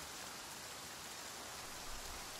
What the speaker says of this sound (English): As rain gets closer, seek shelter and wait for it to pass.